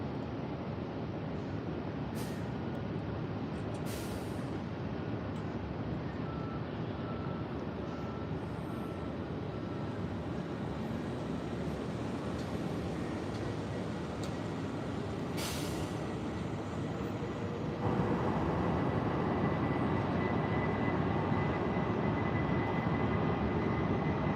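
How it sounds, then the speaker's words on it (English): A JetBlue airliner rolls down the runway for takeoff at Tampa International Airport, a broad, steady jet roar heard from a distance that swells louder in the final seconds. "Got JetBlue lined up and on the roll."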